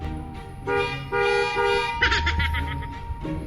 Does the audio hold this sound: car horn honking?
yes